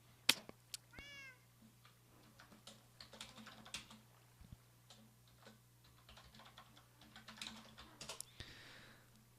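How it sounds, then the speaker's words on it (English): A cat meows in a few rising, wavering calls near the start, set against a quiet room with rapid, soft computer keyboard typing that continues throughout. "this is Cat Lady's 80s cat"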